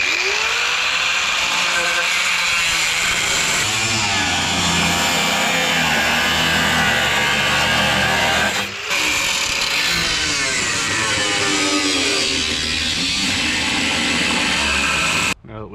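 Cutting disc on a power tool slicing through the corner of a car body, a loud continuous high-pitched grinding whine held for about fifteen seconds with one brief dip midway.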